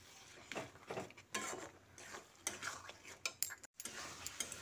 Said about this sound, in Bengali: আরও একবার নেড়ে দিচ্ছি।